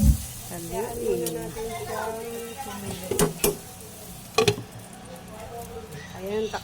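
Sautéed bitter gourd with egg being stirred in a pan, with soft sizzling and a few sharp clinks of utensil on metal. A voice talks over the stirring.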